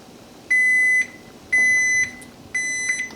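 A kitchen timer set for eight minutes of noodle cooking gives three clear, evenly spaced electronic beeps, each about half a second long, loud and close in a quiet kitchen.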